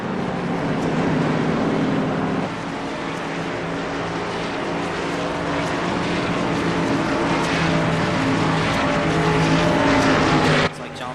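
Race cars roar through the iCAR Busch series racing video game at Phoenix, a dense continuous engine drone with shifting pitch and a sudden drop near the end, an excited voice commentating over the cars.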